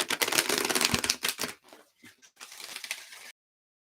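A deck of tarot cards is cut and shuffled by hand in a string of close, crisp papery riffles and slaps, then a softer brief flutter before it stops.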